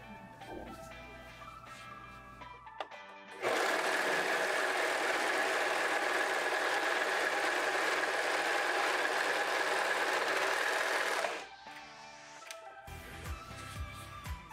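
A Sun Special SS-320 domestic overlock machine stitches tactel fabric in a loud, steady, fast whirring burst of about eight seconds, with quieter handling noises before and after.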